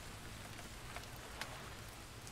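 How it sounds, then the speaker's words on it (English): Steady rain patters down in the Fisher Online fishing game during a trolling session in Finland, a soft continuous hiss with a couple of slightly louder drops and no talk. "We're getting some rain."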